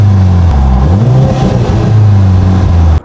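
A Mercedes-AMG C43 with twin rear exhaust pipes revs loudly close by, its deep engine note rising and falling through the exhaust in a strong, continuous blat, cutting off abruptly at the end.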